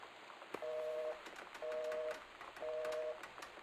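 Repeated electronic beeping of a cordless phone in the video game Gone Home, three steady tone bursts of about half a second each at an even rhythm, clear and alone against a quiet background.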